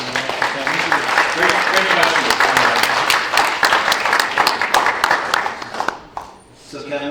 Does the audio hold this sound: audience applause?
yes